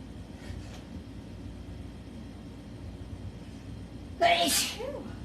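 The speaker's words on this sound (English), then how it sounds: "Sorry, I'm going to sneeze." One sudden sneeze bursts out near the end after quiet background hum, close and fairly loud.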